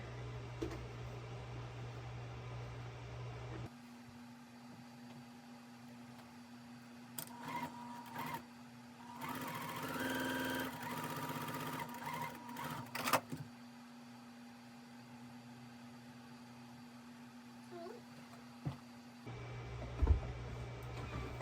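A sewing machine stitches quilt block squares with a steady mechanical hum. Short whirring bursts come in the middle and near the end, and the machine sounds close but quiet.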